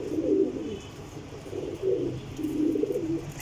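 Jeth Wasakh racing pigeons coo softly in a few repeated bursts, close by and unaccompanied by talk, with low rumbling background noise between the calls.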